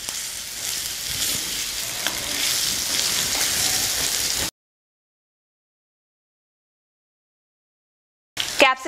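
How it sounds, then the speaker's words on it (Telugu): Capsicum pieces fry in a hot pan with a steady, loud, close hiss that runs for several seconds. The sound cuts to silence, then a short burst of sizzling returns. No one talks. "ఇప్పుడు క్యాప్సికమ్ ముక్కలు కూడా వేసేసుకుందాం. ఈ క్యాప్సికమ్ ముక్కల్ని ఒక 5 నిమిషాలు వేగనిద్దాం."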